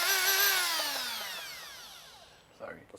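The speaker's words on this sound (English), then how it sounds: "So he has our spinner light duty drill brush, which can be paired with any kind of power drill at home." A power drill spins a light duty spinner drill brush, a high whine that starts loud and steadily winds down in pitch as it slows, followed by a brief rustle near the end.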